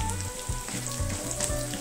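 Dried red chilies crackle and sizzle sharply in hot oil for wheat rava upma, a dense, close frying hiss with quick scraping stir strokes repeating through it.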